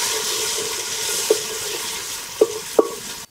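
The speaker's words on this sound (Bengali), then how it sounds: "যে তেলটা বেঁচে আছে তার মধ্যে রসুনের বাটাটা দিয়ে দিলাম 4 চামচ, রসুনটা অল্প কষিয়ে নিচ্ছি" Four spoons of garlic paste sautéing in leftover oil in a pan, a bubbling sizzle throughout with three sharp spoon clinks against the pan toward the end, no speech.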